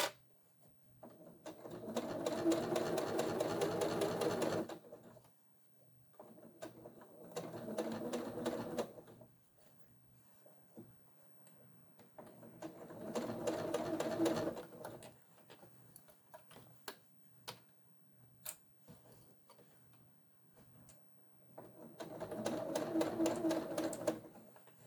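Sewing machine stitching fabric for a pleated pouch, running in four separate bursts of a few seconds each with quiet pauses between, close and fairly soft.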